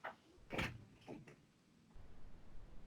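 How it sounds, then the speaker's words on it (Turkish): An indoor door is opened with a short rattle and latch click, then a muffled thud, followed by a low steady background hum. "Dur bir dakika şu kapıyı açacağım."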